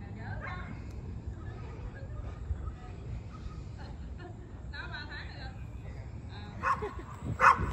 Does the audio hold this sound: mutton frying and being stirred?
no